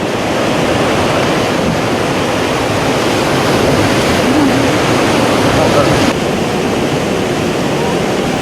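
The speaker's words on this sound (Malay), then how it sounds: "Jeram-jeram kecil yang lebih tinggi dan lebih banyak mulai kelihatan." Steady, loud rushing of river rapids during a white-water rafting trip to Gua Kandu, a dense unbroken roar of churning water filling the whole stretch with no pauses.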